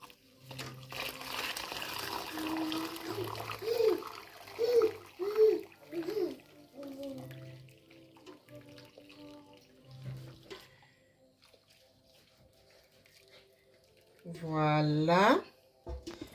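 Homemade tamarind juice, boiled ten minutes, is poured back through a kitchen strainer, making soft trickling and splashing in bursts near the end. Speech runs through the earlier part.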